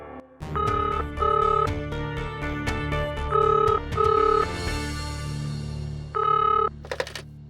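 A telephone rings repeatedly inside Sudha's house, loud bursts of bell tones in an even rhythm, with short pauses between the rings and a sharp electronic chirp at the end.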